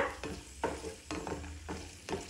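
Raisins and cashews frying in ghee in a pan sizzle softly and steadily, broken by several rhythmic scraping stirs close by, with no talk.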